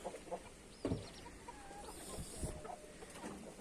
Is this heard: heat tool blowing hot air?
no